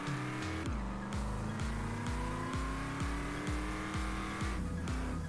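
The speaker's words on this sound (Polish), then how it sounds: "Taki ma odgłos silnika." A Hustler car engine in GTA San Andreas multiplayer, in Los Santos, idles with a steady low rumble, pulsing in regular rhythmic throbs, close and continuous with no talking.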